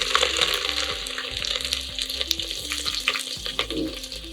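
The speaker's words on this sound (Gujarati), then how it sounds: "લસણ સરસ તતડી જાય" Garlic crackles in hot oil with cumin and mustard seeds, a tempering for a fenugreek-leaf vegetable dish. The sizzle is dense and continuous, with sharp pops scattered throughout, close and fairly loud.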